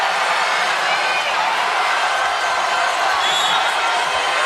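Steady, dense crowd noise fills a basketball game, a continuous roar of cheering and chatter with no breaks, heard alongside a commentator's voice.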